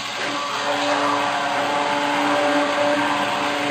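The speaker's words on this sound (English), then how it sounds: "Oh, you can hear the motor starting off" A blender motor whirs steadily, mixing soap batter that is turning thick and pale, a constant mid-pitched drone with a faint rising tone, close and unbroken throughout.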